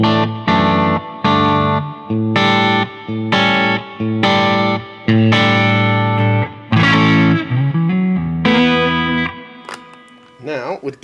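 Electric guitar through an amp with a touch of reverb: a series of loud ringing chords in steady rhythm, ending in bent, wavering notes.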